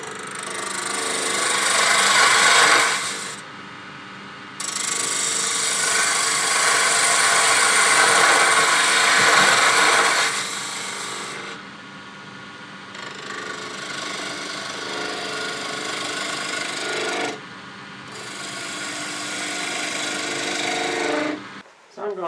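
Wood being turned on a lathe with a spindle gouge to make a tool handle: a steady, loud scraping hiss of the gouge cutting, broken by short pauses.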